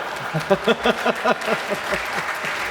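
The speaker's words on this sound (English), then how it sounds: "the people who applauded you there were some fraction of the audience" A lecture-hall audience at a science conversation event breaks into a short burst of clapping, strong at first then thinning out and fading within a couple of seconds.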